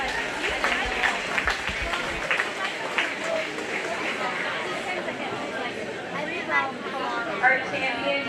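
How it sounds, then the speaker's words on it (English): Audience applause fills the arena at a 4-H youth cattle show, a steady wash of clapping running for several seconds with crowd chatter and murmuring voices mixed beneath it. "Let's go ahead and give all 3 of those kids a nice round of applause."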